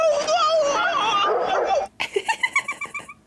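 A dog in a 1976 Rocky film scene whimpers and yips in a series of short, rhythmic cries near the close, following a stretch of lively, busy voices and sound.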